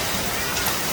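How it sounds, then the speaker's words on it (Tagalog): Heavy rain pours in a dense, steady hiss with no break, loud and close throughout a short moment of downpour. "Grabe ang lakas ng ulan."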